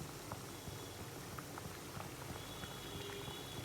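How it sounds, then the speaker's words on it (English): Pouch of MTR ready-to-eat vegetable pulao sitting in a pot of boiling water, with a steady low bubbling rumble and scattered faint pops, fairly quiet and continuous with no talking. "We are just going to let it be there in the boiling water for 5 minutes."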